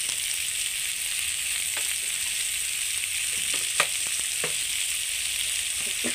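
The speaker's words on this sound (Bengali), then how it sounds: "এবার কাঁঠালটাকে অল্প ভেজে নেব সুন্দর করে" Jackfruit pieces fry in hot oil in a pan with salt, giving a steady, close sizzle and crackle. Now and then a utensil scrapes or stirs, and no one speaks.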